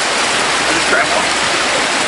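Roar of the Blauthaler Waterfall, a steady broadband rush of falling water that fills the whole clip at close range, with a faint voice briefly audible under the noise.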